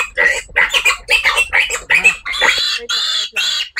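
Piglet squealing loudly during castration, a rapid run of shrill, rasping squeals in close succession, then a few longer high-pitched cries.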